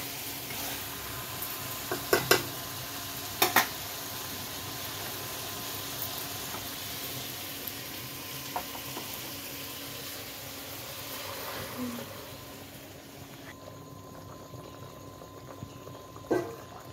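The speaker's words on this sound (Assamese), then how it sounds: "এয়া উতলা পানীখিনি পুৰা ঢালি দিলোঁ, পুৰা উতলি আছিলে এই তৰকাৰীখিনি" Duck curry with pumpkin simmers after boiling water is poured in, producing a low, steady bubbling hiss with a few sharp utensil clacks, quieter toward the end.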